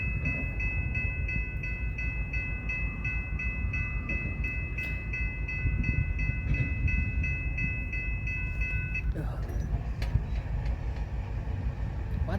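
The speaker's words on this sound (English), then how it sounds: "This one being a almost all AMD coal train," A long coal train of mostly AMD cars rolls past in Nebraska with a continuous rumbling roar and a steady tonal horn or whine that stops partway, heard close and loud with no voices.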